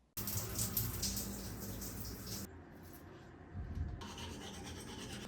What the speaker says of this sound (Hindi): ठंडे पानी से मुँह धोना अलग ही रोंगटे खड़े हो जाते हैं